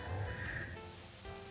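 Steady airbrush spray of thinned Vallejo Game Color yellow paint, a continuous close hiss running without pause, creating a dragon's-breath fireball effect for toy photography.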